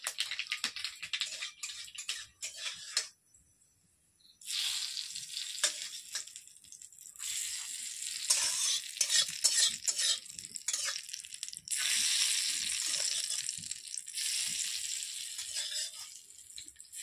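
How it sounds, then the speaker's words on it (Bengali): Mustard seeds hit hot oil in a wok and crackle in a dense, sustained sizzle, close and fairly loud, with a short quiet gap before the spitting resumes in bursts. "সর্ষে দিয়ে দিলাম।"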